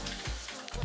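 Eggs frying on an electric cooker, a steady close sizzle with a couple of brief low knocks from the pan, no voices.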